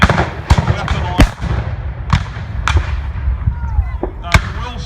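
Civil War reenactment artillery cannons fire at an outdoor battle in Hainesville, Illinois, sending sharp, loud booms at irregular intervals over a murmur of crowd and field noise.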